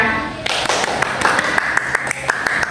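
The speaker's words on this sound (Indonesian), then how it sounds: "Coba teman-teman beri aplaus kepada Alisa." Classroom applause for a student named Alisa during a discussion lesson, a ragged burst of claps from a group of classmates, steady and fairly close, lasting a few seconds with no talking.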